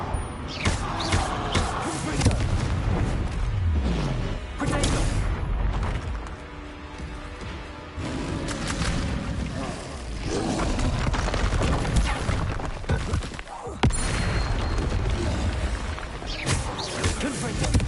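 Confringo blasting spells exploding in Hogwarts Legacy, a string of booming blasts and impacts of moderate loudness amid game effects, with a voice casting spells between them.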